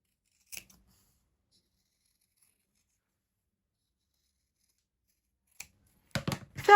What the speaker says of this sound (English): Then I'm just going to take my scissors and carefully cut around the line that I've just drawn.